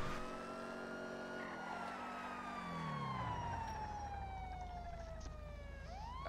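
Police car siren in a video game roleplay wails through a steady car engine, its tone sweeping down over several seconds and then rising again near the end, loud and continuous with no talk.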